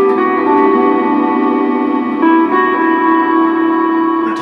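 Sustained guitar notes ring out through an Electro-Harmonix Cathedral reverb pedal, a long, washy reverb, the tones blending into a shimmering, cavernous wash with no dry attack.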